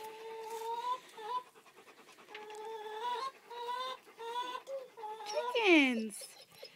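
Chickens cluck and warble nearby in a series of tonal calls, ending with a louder rising squawk.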